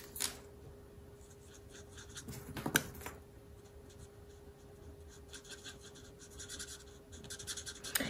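A marker rubs and scratches across paper as an otter drawing is colored in, with soft, close strokes at an irregular pace and a few louder swipes.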